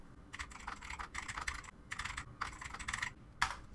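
Typing on a computer keyboard in Google Docs: close, steady bursts of quick key clicks that come in short runs with brief pauses between them, with no voice.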